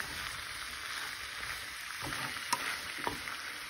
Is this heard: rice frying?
yes